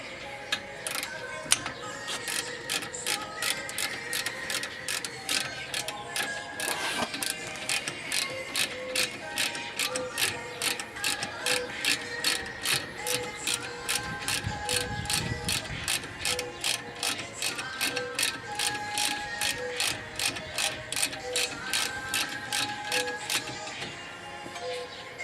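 Ratcheting tie-down straps being cranked tight, giving a close, steady run of rapid mechanical clicks that continues for about 25 seconds with only brief pauses.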